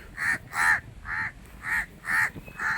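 A crow caws six times in a steady, evenly spaced series at a lakeside park ground in Vaikom, loud and close with little else around it.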